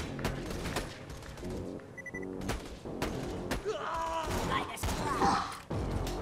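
Rapid bursts of shotgun fire in Borderlands 2 with heavy booming shots, mixed with game sound effects and some talking over the action.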